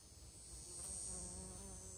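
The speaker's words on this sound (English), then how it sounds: "It's a big bee with tons of pollen on its legs." A big bee laden with pollen buzzes outdoors, a faint, steady hum that swells slightly midway, with no voices.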